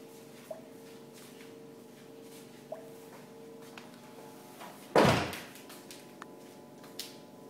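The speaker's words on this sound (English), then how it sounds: "Close the door." A door shut once with a single loud thud and brief rattle, near and clear, after a few faint small knocks and a low steady hum.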